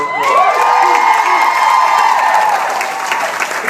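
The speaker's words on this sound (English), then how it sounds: "may be a more exciting crowd we've had" An excited crowd at a meeting bursts into loud applause and cheering, with a long high whoop rising over the clapping before it gradually eases off.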